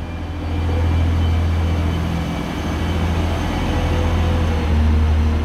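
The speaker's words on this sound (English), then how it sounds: "You can hear the motors." Low steady hum of train motors as a train departs a station platform, a continuous rumbling drone that swells slightly, heard with broadband ambient station noise and no talk.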